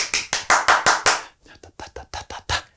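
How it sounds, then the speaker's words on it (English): Hand claps meant to get a noisy group's attention: a steady run of about six loud, sharp claps, a brief pause, then a quicker, softer run of varied claps in a changing rhythm. "continue with a series of claps that change each time"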